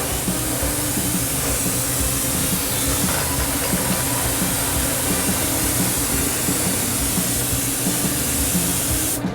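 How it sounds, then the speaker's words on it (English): A continuous, loud spray hisses steadily as a coating is applied to a riding hat at the Charles Owen hat factory, cutting off abruptly at the very end. "Okay, I might have sprayed it a bit too much."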